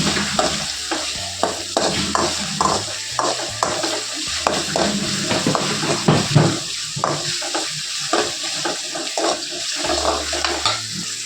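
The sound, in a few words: sautéing ingredients for dal dumpling curry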